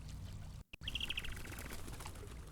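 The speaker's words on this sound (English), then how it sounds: "Birds." Birds in the video game GRIS give a quick run of high, bright chirps after a brief dropout, set against a soft ambient game backdrop.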